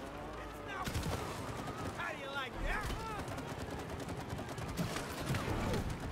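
Rapid bursts of gunfire from the video game It Takes Two fill the whole stretch at steady loudness, with excited voices talking over the shooting throughout.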